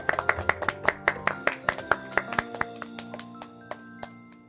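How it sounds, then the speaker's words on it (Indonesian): A rhythmic run of about twenty crisp hand claps, steady at first and then thinning out, set over a sustained musical tone with no talking. "Tepuk tangan yuk"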